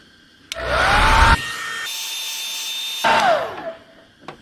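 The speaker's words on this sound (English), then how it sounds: "warm up your hose with a blow dryer like I'm gonna do" A blow dryer whirs steadily at close range warming a hose during a Land Rover LR3 water pump replacement, switching up in pitch and then back down before cutting off, leaving a few faint clicks.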